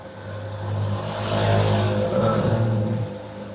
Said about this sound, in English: I can hear every car that passes by your house.